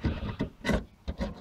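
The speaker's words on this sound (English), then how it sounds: "just gently rubbing it out" Old sealant being rubbed out of a caravan window frame by hand, a series of short close scraping strokes in an uneven rhythm, about five bursts in quick succession with no talk.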